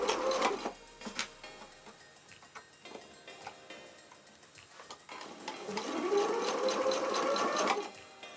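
A sewing machine runs in short bursts while reupholstering a bar stool, then settles into a longer steady stitching whir that rises and fades near the end.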